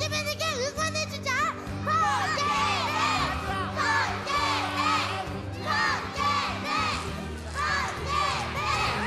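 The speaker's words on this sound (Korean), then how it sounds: "친구들, 우리 다 같이 큰 소리로 번개맨에게 응원해주자" A crowd of children at a Korean children's TV show loudly cheering for the hero Beongaeman, with rhythmic shouted chants and high excited voices close and continuous.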